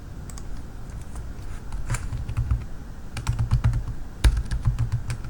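Someone types on a computer keyboard to name a workspace, with bursts of quick key clicks and a few sharper taps close by over a faint steady background, with no one talking.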